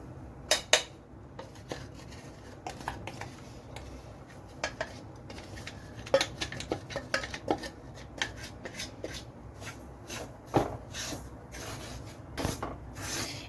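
Ground corn (cholam) dry-roasts in a pan for Kerala-style uppuma: a utensil repeatedly scrapes and rubs through the grains with irregular clinks against the metal, close and fairly soft, with no talk.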